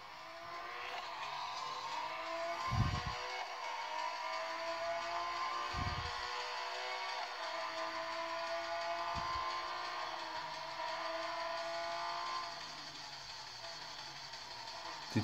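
A Porsche race car engine in a racing video game played on a Xiaomi Mi Pad 4 Plus tablet whines steadily, with a few deep thumps as the car shifts or bumps, playing at moderate volume with no talk.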